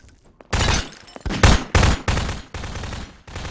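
Gunfire in Garry's Mod Prop Hunt: a string of loud, separate shots and short bursts, about six blasts spaced irregularly across a few seconds, close and punchy.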